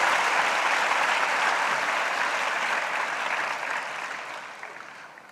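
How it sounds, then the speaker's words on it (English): Audience applause at a world cultural festival event, a steady wash of many hands clapping at moderate distance, sustained and then gradually fading toward the end. "you have to congratulate and a big applause for them"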